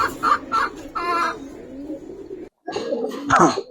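Fancy pigeons kept at home give short, repeated cooing calls close by, with a brief pause midway and a person speaking faintly in the background.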